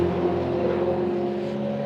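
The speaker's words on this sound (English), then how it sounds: "show you these cars heading out" Supercars, including some early models, head out onto the track at the Phillip Island Festival of Motorsport, carrying a steady droning engine note with a strong low hum that holds almost level and fades slightly toward the end.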